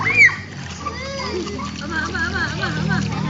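Water splashes as a child swims in a pool, choppy sloshing running under excited children's voices and an adult speaking nearby.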